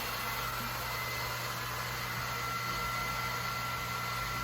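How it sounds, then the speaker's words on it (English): Pump draining a 60 gallon aquarium tank, a steady low mechanical hum under a broad constant hiss of moving water, faint and unchanging throughout. "The 60 gallon is almost empty using the pump"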